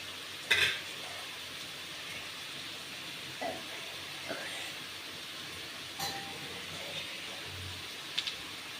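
Boiled potatoes with chili powder are stirred in a pan, giving a faint continuous sizzle with occasional light scrapes and clinks of the spoon.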